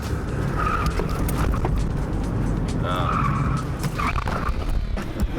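A car's tires squeal and skid through an abrupt lane change made without braking, over a loud, steady roar of engine and road noise, with voices talking over it.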